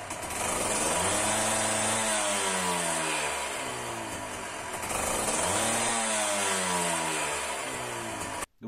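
A small engine runs loud and steady on a homemade dynamometer roller, revving up and easing back in two long rising-and-falling sweeps before cutting off abruptly near the end.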